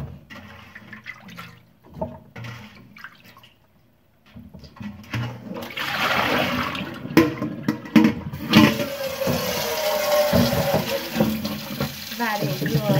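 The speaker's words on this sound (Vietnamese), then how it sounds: "Các bạn cho dừa vào nước chanh, các bạn rửa qua như thế này." Young coconut being rinsed in lime water, with running and splashing water and sloshing in a basin, a quiet stretch early on, then busier, louder water handling continuing to the end.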